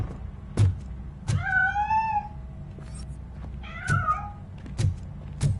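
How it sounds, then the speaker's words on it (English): A cat in the RoboCop video game meows twice, a drawn-out rising-and-falling cry followed later by a shorter one, with a few soft thuds in between. "That cat must be hiding inside."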